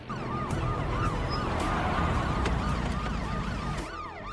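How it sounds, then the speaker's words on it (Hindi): A police siren wails in repeated rising and falling sweeps, moderately close, over a busy background with traffic rumble. "सायरन, अरे ये पुलिस की वैन किस लिए आई है?"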